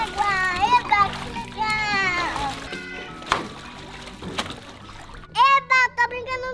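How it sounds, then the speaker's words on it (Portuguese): A child plays in a pool, with water splashes and sloshing mixed among the child's excited speech and squeals. "Eu tô brincando na piscina na água!"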